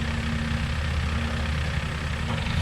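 A John Deere tractor engine idles steadily close by, a low rumbling drone that holds constant without a break and with no talk over it.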